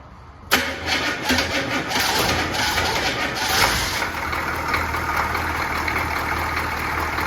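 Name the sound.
squarebody truck engine trying to start and idle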